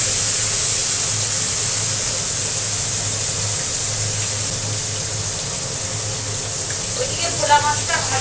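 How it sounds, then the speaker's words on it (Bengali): Bhola fish fry in a pan with a steady, loud, hissing sizzle that holds evenly throughout, with light spattering pops toward the end. "তাই ভোলা মাছগুলো ভেজে নিচ্ছি।"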